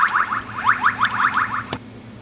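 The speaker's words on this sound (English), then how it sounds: "just think about the sound brick. That can get annoying really fast." A Lego Alien Conquest sound brick from the 7065 Alien Mothership set gives a run of quick, rising electronic chirps, close and fairly loud. A single sharp click comes near the end, followed by a quiet tail.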